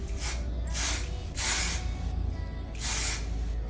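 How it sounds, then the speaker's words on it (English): A can of hair colour spray hisses onto dark hair in three sustained bursts separated by short pauses, close and loud. "I'm going to spray this all throughout my hair so that I have hair like the Joker"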